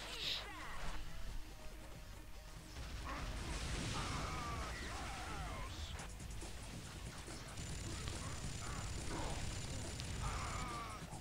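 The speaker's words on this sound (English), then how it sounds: "These computer AI persons aren't really fooled by it, they still shoot you." Enemy bots firing weapons in the Unreal Tournament 2004 video game, a busy stretch of pops, bangs and mechanical clatter running steadily under game sounds and scattered voices.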